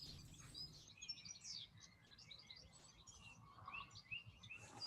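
A mistle thrush sings outdoors, far off and faint, its repeated high chirping phrases running steadily under a soft background hiss.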